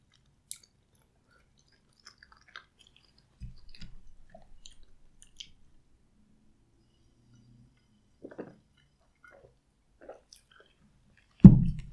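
Fresh green beans being chewed during a mukbang, with soft, sparse crunches and mouth clicks scattered through near-silence, followed by a louder close thump at the end.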